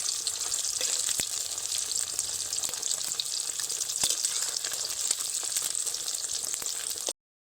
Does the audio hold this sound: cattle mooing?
no